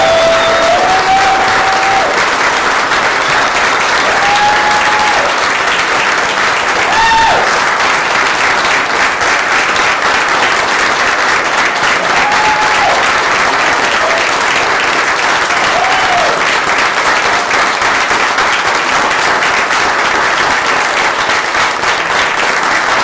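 An audience claps loudly and continuously after the new fire chief is introduced at his swearing-in. The applause is dense and sustained, with faint whistle-like tones rising briefly above the clapping.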